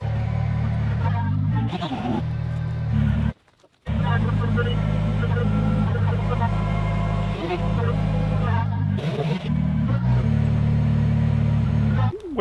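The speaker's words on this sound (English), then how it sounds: "It's a working tractor." A working tractor engine runs nearby on a homestead, a steady low rumbling drone that continues throughout with a brief cutout partway, and faint voices and noises in the background.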